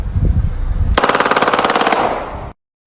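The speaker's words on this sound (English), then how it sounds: "letting off a Glock with a switch" A Glock pistol fitted with a switch fires a loud, rapid full-auto burst of about twenty shots in under two seconds, preceded by background noise and ending abruptly.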